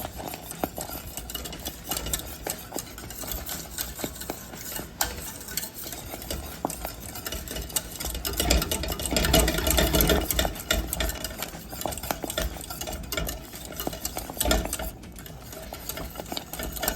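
Lemon meringue pie filling stirred steadily in a pot on the stove, a continuous scraping and swishing that runs alone for the whole stretch and swells to its loudest midway.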